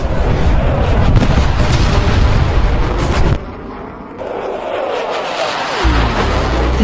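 A fired missile explodes over New York as a loud, sustained rumbling roar with a heavy low boom that briefly drops, then resumes as a fuller, dense blast wash.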